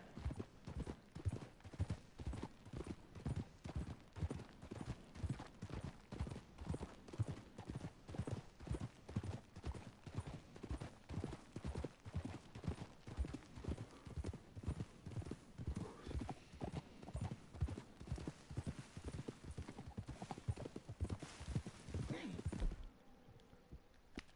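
Horse hooves clip-clop at a steady walking rhythm in Red Dead Redemption 2, a long even series of close, distinct footfalls that stops abruptly near the end, with voices chatting in the background.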